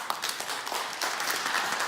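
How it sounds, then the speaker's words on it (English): Brief burst of audience applause after a panel at the Tallinn Digital Summit, a steady wash of many hands clapping with no speech over it. "Big applause, please."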